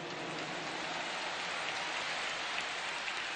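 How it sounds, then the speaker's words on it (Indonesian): Dense, steady crackling wash of applause from a large crowd at an election campaign rally in Jakarta, continuous and even throughout with no voices standing out. "Tepuk tangan buat semua yang hadir di sini"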